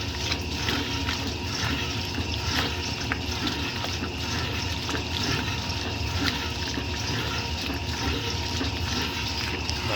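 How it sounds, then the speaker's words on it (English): 1964 Speed Queen A49 top-loading washing machine filling and splashing water while washing work pants: continuous rushing, sloshing water with churning agitation, close and steady for the whole stretch. "it's still getting water and still throwing water at me every so often"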